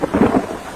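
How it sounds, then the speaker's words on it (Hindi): A brief, heavy rumble of cartoon thunder mixes with rain in a violent storm, a single loud burst that fades within a second. "बारिश और तूफान इतना तेज था"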